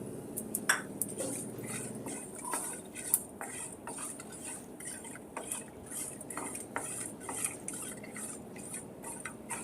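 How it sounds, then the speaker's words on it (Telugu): Sesame seeds dry-roasting in a pan while being stirred, with continuous scraping and light clinks of a metal spoon against the pan, steady and close, no talking. "ఇప్పుడు ఇందులోకి రెండు టేబుల్ స్పూన్ల నువ్వులు కూడా వేసి వేయించుకోవాలి"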